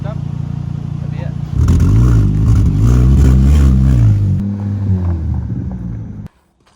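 A $1000 economy car engine revs hard, its loud throaty roar rising and holding, then easing back to a rougher idle before cutting off abruptly.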